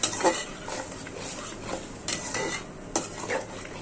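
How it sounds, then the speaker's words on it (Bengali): A wok being set on a stove, with metallic clanks and scraping of cookware, a few sharper knocks standing out over a steady low background, close and without talk. "কড়াইটি বসাই দিচ্ছি, কড়াইতে তেল দিয়ে দিচ্ছি"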